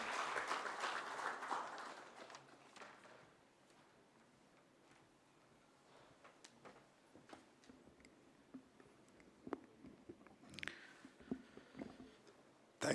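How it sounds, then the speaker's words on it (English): Applause greets guest of honor Shri R.N. Palai at an inaugural session, opening as a full burst of clapping that fades within a couple of seconds into scattered, isolated claps and taps in a quiet hall. "Please give a huge round of applause to Shri R.N."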